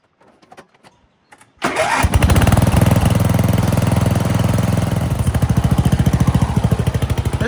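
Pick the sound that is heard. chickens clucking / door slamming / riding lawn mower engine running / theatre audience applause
riding lawn mower engine running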